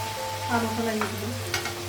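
Potatoes frying and being stirred in a pan with spices in a home kitchen, a soft continuous sizzle with a low steady hum beneath and occasional light scrapes.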